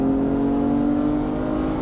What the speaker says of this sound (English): We do have this Karbonius CSL airbox, which makes the induction note just so delicious.